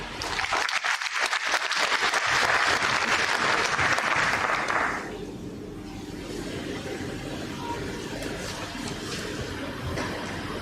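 An audience at a first-aid training lecture bursts into dense, loud clapping for several seconds, then the applause drops away, leaving a steady low room rumble.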